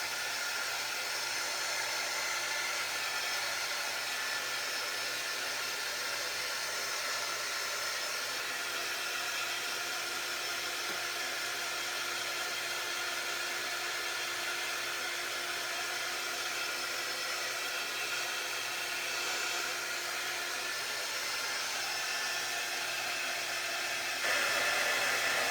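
Hair dryer blowing steadily on a chalkboard-painted sign, a constant even hiss that runs unbroken and fairly close throughout, with no speech.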